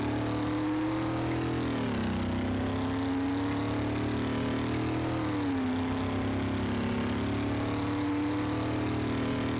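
Dom's Dodge Charger from the Car Mechanic Simulator game revving on a dyno, a steady droning engine note that dips and climbs again around two and five seconds, continuous and fairly loud, with no voices.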